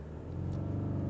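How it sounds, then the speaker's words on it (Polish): A BMW 520d xDrive diesel engine revs up under hard acceleration, a steady loud rumbling drone that builds and holds, heard from inside the car with no talking. "Na 3000 jak wkręcił silnik, jak szarpie skrzynia przy zmianie przełożeń."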